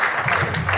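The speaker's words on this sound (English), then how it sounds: "please give a round of applause, please." Short burst of audience applause at a women's empowerment community event, moderately loud and lasting under a second.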